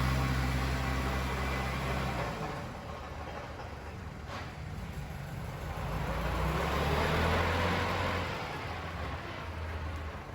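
A used four-wheel-drive Kubota L4508 farm tractor with a front blade and disc plough idles steadily, a continuous low diesel drone with broadband mechanical noise holding at an even, fairly loud level throughout, no voices over it.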